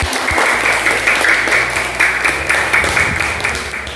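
A class of students applauds together during an Indonesian school lesson, a steady mass of clapping lasting throughout with a faint voice underneath.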